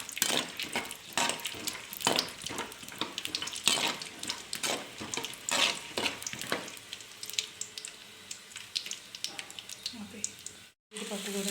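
Peanuts sizzle and crackle in hot oil in a pan while cooking pulihora, with steady frying hiss and scattered pops, some stirring clatter, and someone talking over it before a brief cut near the end.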